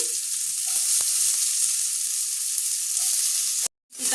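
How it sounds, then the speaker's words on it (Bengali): Finely chopped onions hiss in hot oil in a pan, a steady, close sizzle with a few small pops, which cuts out abruptly near the end. "তো আমি পেঁয়াজ কুচিগুলো এবার এতে দিয়ে দিচ্ছি"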